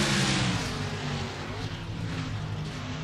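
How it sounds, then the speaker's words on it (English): Race car engine noise in the NASCAR Racing 2003 video game at Sonoma, a steady loud drone with shifting harmonics as the stock car slams into a tire barrier, no voices. "A pretty straight impact into that tire barrier"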